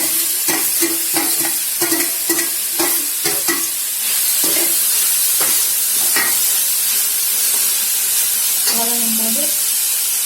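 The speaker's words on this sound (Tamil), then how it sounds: "வெங்காயம் பூண்டு ரெண்டும் வதங்கி இப்போ நாங்கள் காயை போட்டு வதங்கி" Vegetables are sautéed with onion and garlic in a pan for a spicy cheese pasta, with close, rhythmic spatula scrapes and stirs over a steady loud sizzle and hiss, and a voice talks briefly near the end.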